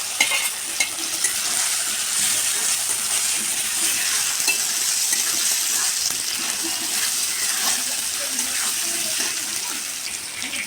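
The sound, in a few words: green chilies and boiled potatoes frying in a pan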